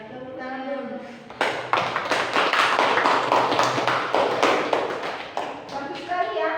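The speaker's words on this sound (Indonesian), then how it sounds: "Tepuk tangan dulu." A classroom group breaks into a burst of hand clapping that lasts several seconds. Voices are heard just before and after it.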